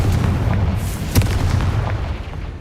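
A Confringo blasting spell detonates in Hogwarts Legacy as a loud, close booming explosion with deep rumble and scattered crackling bursts throughout.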